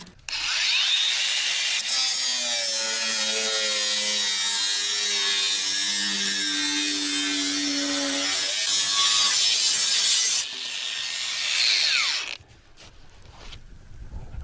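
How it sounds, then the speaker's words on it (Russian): A loud angle grinder cuts through metal in a garage during a KAMAZ 4310 6x6 truck restoration, with a harsh, continuous whine that wavers in pitch, then winds down and stops near the end. "Болгарка затихла."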